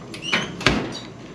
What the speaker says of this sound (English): We're gonna close the door